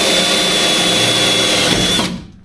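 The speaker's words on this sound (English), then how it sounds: "If I can't drill this one" A power drill whines steadily at close range, grinding into the metal body of a 1964 Toyota Crown with a continuous high-pitched buzz, then winds down and stops near the end.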